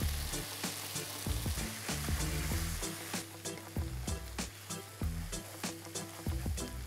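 Wide rice noodles stir-fried in a wok with chicken stock and sauce for Thai drunken noodles with chicken, a steady sizzle broken by repeated sharp scraping clacks of the spatula in an uneven rhythm.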